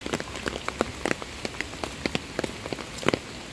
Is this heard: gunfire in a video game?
no